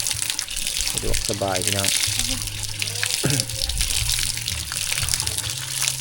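Tap water runs steadily while something is washed during outdoor Thai cooking of pounded papaya salad and khanom jeen, a continuous gushing wash with people talking over it at times.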